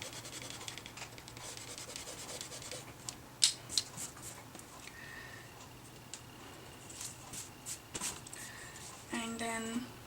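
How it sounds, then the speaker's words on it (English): An eraser rubs away pencil lines on a white card, giving soft, close scratchy strokes in short bursts over a faint steady background hum. "erase these pencil lines."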